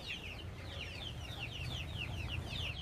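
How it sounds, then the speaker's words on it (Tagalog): A flock of chickens clucks softly across a farmyard, repeated quick chirping calls over a low steady background murmur, faint and distant. "nandito na mga manok"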